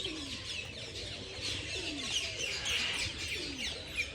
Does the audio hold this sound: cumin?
no